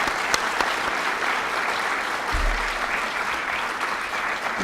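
A lecture audience at Irvine Valley College breaks into sustained applause for those lost on 9/11, a dense wash of clapping that holds steady throughout, with a brief low thump partway through.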